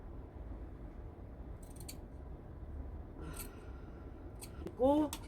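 Scissors snipping into the fabric seam allowance around a jacket collar's curve, a few short, crisp cuts over a steady low room hum, with a voice briefly heard near the end.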